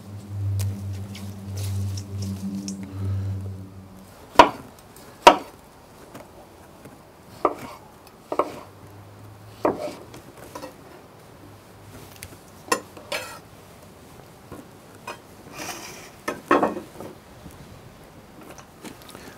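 A chef cuts stale bread with a knife on a board while preparing salmorejo, making a series of sharp, dry crunching chops spaced irregularly, close and fairly quiet, with a faint low hum early on.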